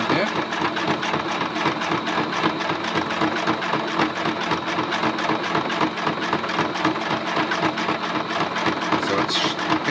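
A sewing machine stitches leaf shapes onto fabric to form a vine. Its motor hums in a fast, steady, mechanical rhythm that runs without a break and sounds close.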